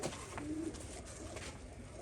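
Pigeons coo softly over a steady hiss of background noise, with a low, drawn-out call near the start.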